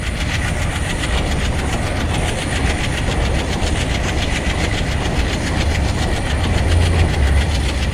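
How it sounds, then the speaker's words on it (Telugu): An Indian Railways train with a WDM3D diesel locomotive speeds along the tracks on the Central Railway route in Train Simulator, giving a steady loud rumble with rhythmic clickety-clack of wheels over rail joints that swells slightly near the end. "మా ట్రైన్ వాడు అయితే దూసుకెళ్ళిపోతున్నాడు భయ్యా"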